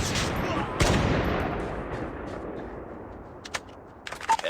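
An SKS marksman rifle fires in a team deathmatch video game: a sharp shot rings out and decays, followed later by a few quicker reports.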